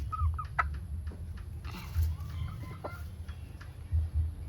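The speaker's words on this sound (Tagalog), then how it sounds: "white kelso na lalaki or tandang rooster" A White Kelso rooster clucks a few times, faint and intermittent, over low rumbling background noise, with other birds calling briefly.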